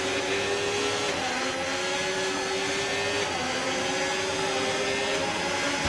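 Race car in a racing video game at Monza, its engine droning loud and constant, then its pitch drops as it slows into the braking zone, with no voices over it.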